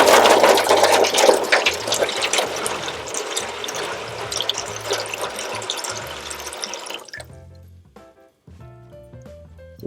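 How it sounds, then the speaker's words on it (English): Warm water pouring into a drip pan set inside a PK 360 grill, a steady close splashing pour for about seven seconds that stops abruptly, leaving faint clinks and low hum. "I put a drip pan inside, and I'm going to add some warm water."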